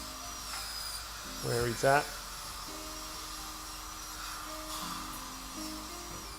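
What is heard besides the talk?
dental drill preparing teeth for porcelain veneers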